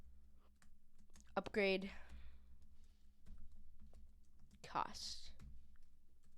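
Typing a variable name on a computer keyboard brings sparse, soft key clicks spread through a quiet stretch, with short bits of speech in between.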